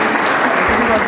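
Audience applause at an awards ceremony honouring an artist, a dense, loud, continuous wash of clapping filling the whole moment.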